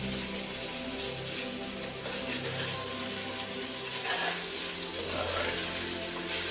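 Ground beef for shepherd's pie sizzles and browns in a single pan, a dense continuous crackle up close under a few spoken words.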